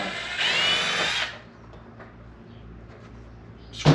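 A Milwaukee power drill drives out a Phillips head screw on a Jeep JL/JT fender, a loud steady whir for just over a second, then a quieter stretch and a short bump at the end.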